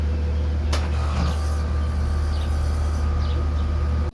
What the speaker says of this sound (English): The sound you heard early in this video could be that the capacitor for your condenser unit here and the condenser unit fan is about to fail